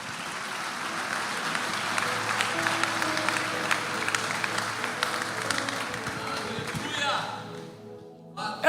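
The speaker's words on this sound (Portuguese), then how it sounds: "Vê se ele vai aplaudir a Jesus aqui nessa noite." A church congregation applauds for several seconds, a dense wash of clapping that fades out near the end, with a voice speaking over it.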